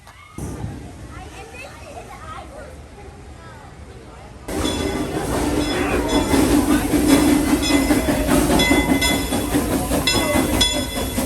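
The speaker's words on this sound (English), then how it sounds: "let's go get the train" A theme park train at Silver Dollar City rumbles and clatters along the rails, growing louder partway through, with wheels squealing and children's voices in the background.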